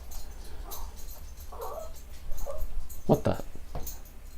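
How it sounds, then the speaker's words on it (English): A distressed dog whimpers and lets out short, high yips in agitated bursts close by, while a person briefly speaks. "My dog's freaking out."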